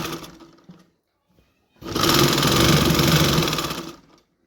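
After a short quiet stretch, a sewing machine whirs in one loud, steady burst of about two seconds while stitching around a half collar.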